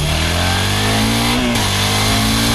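Suzuki SV650 motorcycle engine revving hard and loud up close, a sustained rising roar with a brief dip and pitch shift partway through, no voices.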